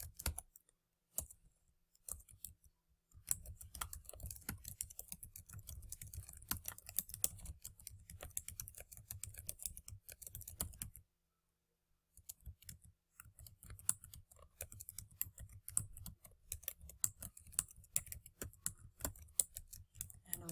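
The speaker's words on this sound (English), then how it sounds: "Now I type." Brisk typing on a computer keyboard, heard alone with no talk: rapid, uneven clicks and key taps in close, steady bursts, with a short pause in the middle.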